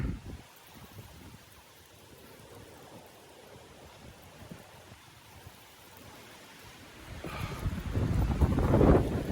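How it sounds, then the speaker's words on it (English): Wind rushing through trees near Uldale Force waterfall, a soft steady broadband hiss that swells into a loud gusting roar toward the end, with some buffeting against the microphone. "I don't know if you can hear the wind in those trees"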